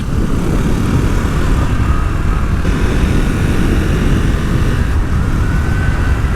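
A Triumph Scrambler 400 X motorcycle rides through winding corners, its engine drone a loud, steady roar mixed with heavy wind rush and no break throughout.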